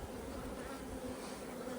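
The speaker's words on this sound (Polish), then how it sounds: "Pszczoły to jest masa tutaj, słuchajcie." Dense, continuous buzzing of many honey bees at an open hive, a low droning hum that holds steady and fairly quiet throughout.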